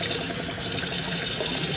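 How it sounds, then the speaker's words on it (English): Tap water runs steadily into a sink during a face-washing skincare routine, a continuous close hiss of flowing water with no talking. "A little bit of water drops."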